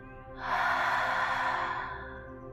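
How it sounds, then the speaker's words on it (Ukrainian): A single deep, breathy inhale swelling and then easing off into a slow exhale, close and soft, alone against a faint steady musical background. "зроби глибокий вдих і повільний, розслаблений видих"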